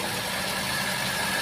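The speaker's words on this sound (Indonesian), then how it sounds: "ini kan mesinnya bergetar nih" A car engine runs with a vibration fault, a steady, dense idling drone with a rough, buzzy texture that holds constant throughout and has no speech over it.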